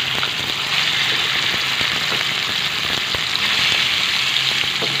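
Meat sizzles loudly in hot oil in a pan for adobo, a dense, steady crackling hiss with a few soft clinks of stirring.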